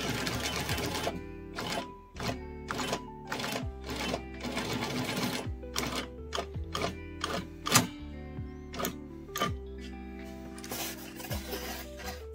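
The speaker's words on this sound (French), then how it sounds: "Là, on voit bien l'aiguille qui va venir se planter et se relever." A post-bed pillar sewing machine stitching large stitches, its needle plunging and rising in a steady mechanical clatter with repeated sharp ticks over a low motor hum, close and moderately loud, without speech.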